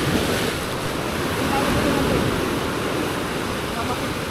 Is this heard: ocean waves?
yes